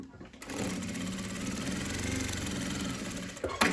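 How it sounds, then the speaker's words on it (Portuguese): A domestic sewing machine runs a continuous seam closing a fabric strap for a ruffled apron, a close steady whirring hum for about three seconds after a brief start, ending with a short clatter. "Vou fazer uma costura para fechar aqui a minha alça."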